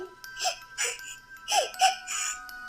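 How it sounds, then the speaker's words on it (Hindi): A person sobs and whimpers from inside a washroom in a Hindi-language drama, several short wet crying bursts in uneven rhythm, muffled and fairly faint, with no speech over it. "ये किसकी रोने की आवाज है?"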